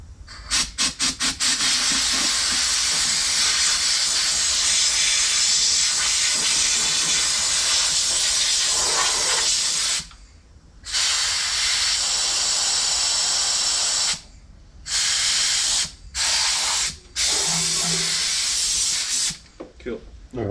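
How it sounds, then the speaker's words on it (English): Compressed air blasts out the spark plug area of a Renault Clio 182 Cup engine, a loud sustained hiss that runs for about ten seconds and then breaks into several shorter bursts with gaps between them. "Maybe get the compressed air ready, mate."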